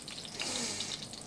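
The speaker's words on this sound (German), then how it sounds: "jetzt können wir quasi hier drin das Brot braten" Bread frying in olive oil in a pan for porcini bruschetta gives a steady, close hiss and sizzle throughout, with no speech.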